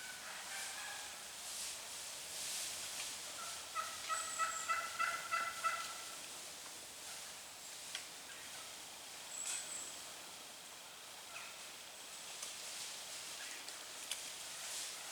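Wild turkeys gobble out on a ridge: one distant rattling burst of several rapid notes in quick succession, faint against outdoor rustle and ambient hiss, followed by quiet field ambience.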